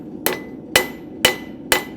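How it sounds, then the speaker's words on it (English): Four sharp hammer blows on shoe sole material, struck at an angle to push it back down, evenly spaced about half a second apart, loud and close with quick decays. "So I'm turning my hammer at an angle, pushing that material back down."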